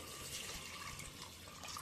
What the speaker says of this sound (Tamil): இதில் இப்போ அளந்து வச்ச தண்ணி ஊற்றிடுவோம்.